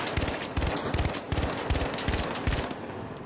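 Rapid bursts of burst-rifle gunfire in the shooter game The Finals, sharp repeated shots in quick clusters of two or three, loud and close with no pauses longer than a moment.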